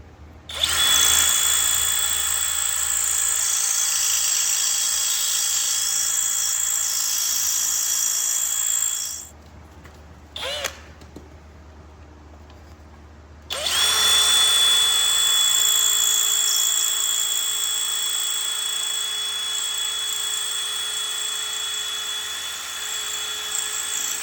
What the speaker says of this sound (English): now we got to drill out the broken grade 8 bolt in the hole